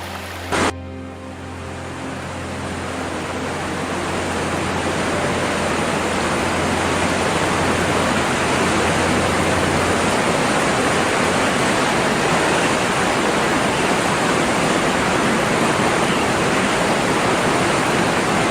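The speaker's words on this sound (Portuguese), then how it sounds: "O rio Kunene, na fronteira com Angola, culmina em Epupa Falls, onde suas águas criam uma nuvem de água," Epupa Falls on the Kunene River at the Namibia–Angola border roars as a continuous, dense wash of falling water, loud and steady throughout after a brief low hum at the start.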